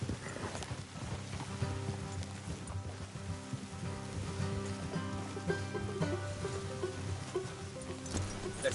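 Horse hooves clip-clop in Red Dead Redemption 2, a steady rhythmic trot of several horses heard close, layered over a continuous background of game music and ambience.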